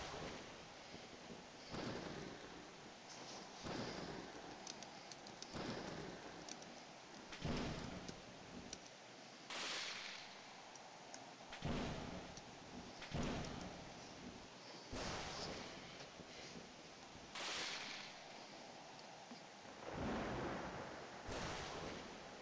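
Thunderstorm in the video game Roblox: steady hissing rain with repeated loud thunder cracks and booms breaking through every few seconds, dense and close.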